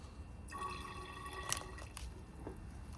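Distilled water trickles into a small container of nitric acid, a faint liquid pour with a few light drips and splashes, heard quietly and close with no talk.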